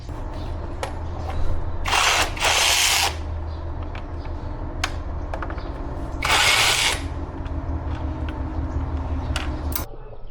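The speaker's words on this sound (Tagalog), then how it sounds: "tanggalin muna natin yung mga bolts or cover ng CVT" A power tool whirs in two longer bursts to back out bolts from the CVT cover of a Honda ADV160 scooter, with short metallic clicks and taps between them over a steady low workshop hum.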